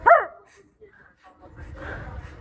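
A ventriloquist's voice imitates a dog with one short, sharp bark, followed by soft murmuring sounds.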